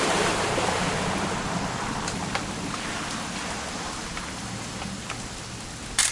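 Continuous rainfall in the video game What Remains of Edith Finch, a loud, constant wash of drops with scattered distinct splashes and a faint low rumble beneath.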